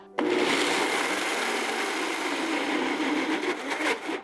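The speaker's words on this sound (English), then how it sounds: "And we're going to start by a quick, short blend" A blender briefly whirs through dry roasted, unsalted peanuts, a loud steady grinding roar that starts abruptly and runs continuously for about four seconds with no talking.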